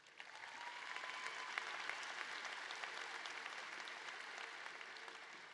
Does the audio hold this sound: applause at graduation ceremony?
yes